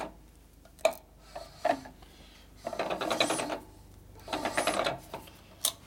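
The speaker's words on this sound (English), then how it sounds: "That noise is rotor over here vibrating." A Harley Shovelhead big-bore stroker motor on a build stand turns over with its rotor vibrating, giving two long mechanical whirring, rattling bursts between a few sharp clicks, close and fairly quiet, with no talk.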